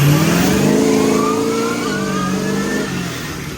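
A monster truck engine revs hard as the gas pedal is pressed, a loud close rising roar with climbing harmonic tones that eases slightly toward the end, with no talking.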